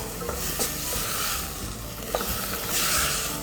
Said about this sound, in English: Add the tomatoes in and just give it a good stir.